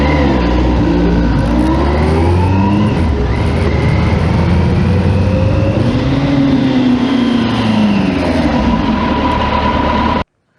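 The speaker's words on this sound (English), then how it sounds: "causes high revs when the clutch is pulled in" A loud motorcycle engine revs steadily high with the clutch pulled in for about ten seconds, its pitch rising and falling slightly, then cuts off abruptly at the end.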